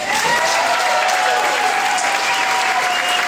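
An audience at a high school's 50th anniversary gala claps loudly and continuously, a dense, even wash of applause filling the room.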